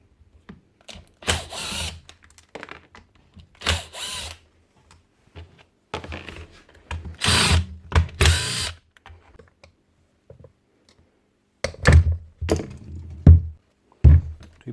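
A power drill or driver backs screws out of the body of an old polisher in bursts of whirring, several short runs separated by pauses, with clicks and thunks of parts being handled, close and fairly loud.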